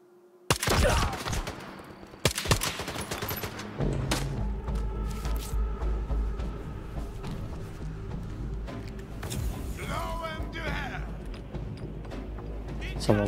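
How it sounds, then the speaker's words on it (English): A grenade blasts amid a firefight in the video game Stalker 2, two heavy booming bursts up front, then a sustained, dense rattle of gunfire and clanking action noise continuing throughout. "Someone threw a grenade."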